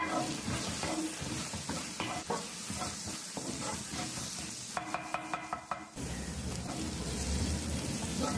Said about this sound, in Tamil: ஒரு பெரிய வெங்காயம் நல்லா பொடியாக கட் பண்ணது சேர்த்து நல்லா வதக்குங்க